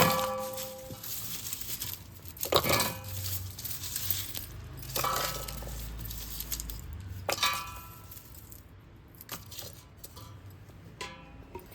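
Garlic cloves dropped into a chopper fitted with a garlic peeler attachment, several separate hard clinks and clatters spaced a couple of seconds apart against a quiet room.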